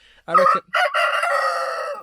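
A rooster in the Outer Hebrides crows loudly nearby, a short opening note followed by a long drawn-out call, heard alone.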